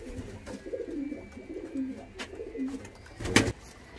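Kalpare Madrasi pigeons give soft, low cooing calls in repeated short phrases, close by, with a louder flutter or bump near the end.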